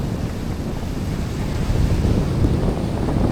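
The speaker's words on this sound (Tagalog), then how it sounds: "Lakas na hangin dito sa taas." Strong wind at a hilltop above Polipol Beach, Bani, Pangasinan roars and buffets the microphone in a constant low rumble, gusting a little harder midway, with no voices.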